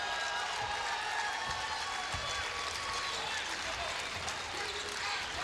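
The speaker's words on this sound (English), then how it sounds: "And the Panther fans are standing and applauding." Basketball crowd of college fans standing and applauding during a tournament game in the Virgin Islands, a continuous wash of clapping and crowd noise filling the arena.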